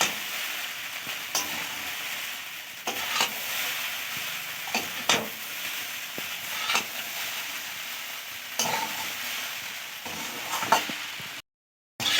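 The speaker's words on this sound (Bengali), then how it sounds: "দেখুন এবারে মশলাটা আর গোলমরিচটা দেওয়ার পরে ভালো করে নাড়িয়ে নেব।" Packaged chow mein noodles tossed with spice mix and black pepper sizzle in a hot pan, with a steady frying hiss broken by repeated scraping stirs and utensil knocks, ending in a brief silence.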